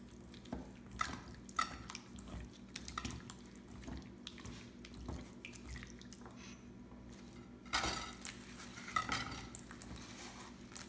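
Seafood stirred in black bean sauce in a pan, with a utensil clinking and scraping against the pan, wet squishing and sizzling, and a few louder scrapes near the end.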